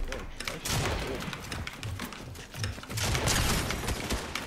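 Rapid bursts of gunfire in a squad-based shooter video game, sounding as dense, overlapping volleys with heavy thumps that run continuously and loud, with voices talking over the shooting.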